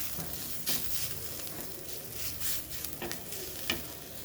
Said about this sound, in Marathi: मस्त भाजून घ्या. त्यामध्ये थोडं बटर टाकलेलं आहे बघा मी.